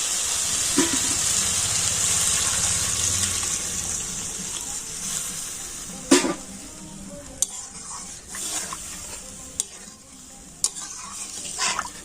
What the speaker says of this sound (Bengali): এবার আমি দিয়ে দিচ্ছি জল